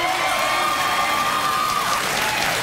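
Studio audience applause on a late-night talk show, a steady, dense wash of clapping and cheering that holds at full level throughout without a break.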